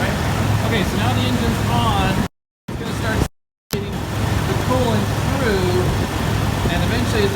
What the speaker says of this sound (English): Okay, so now the engine's on.